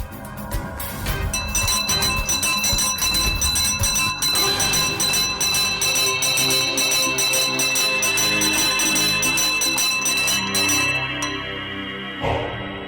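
Bells ring continuously and loudly, a dense layered clanging with sustained metallic overtones that fades out toward the end, with no voices.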